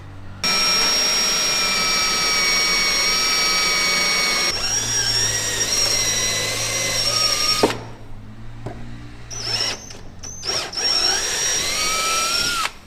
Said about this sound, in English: we're going to use just a drill on the bench, get those holes drilled